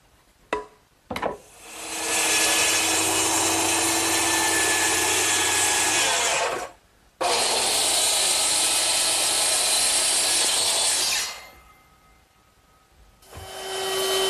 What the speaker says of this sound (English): now that I've cut one, I can use it as a pattern to cut the remaining 3